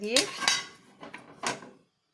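A metal lid is set onto a pan in an oven with a few quick, light clinks and clatters close by. Two or three taps follow, then it goes quiet.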